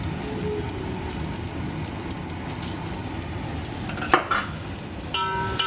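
Curry leaves and broken dried red chillies fry in hot oil in a pan for Pallipalayam chicken gravy, a steady dense crackle and sizzle throughout with a few sharper pops and clinks near the end.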